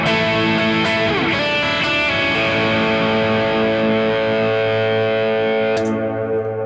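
Sustained overdriven electric guitar chords ring out with a wash of reverb, a fresh strum near the end, loud and without voices.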